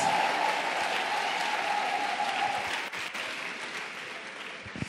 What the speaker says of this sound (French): Clap offering for Jesus.